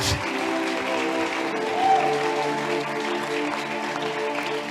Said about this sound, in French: Tu as acclamé comme quelqu'un qui n'a pas écouté ce message.